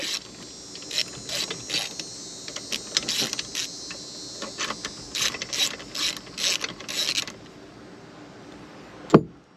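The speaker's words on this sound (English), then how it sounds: "And loosen each of these 12 millimeter bolts right here." A ratchet wrench clicks in quick repeated bursts while loosening 12 millimeter bolts on a Kawasaki exhaust, close and crisp, with short pauses between strokes and a single sharp knock at the end.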